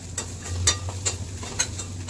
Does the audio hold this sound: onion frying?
yes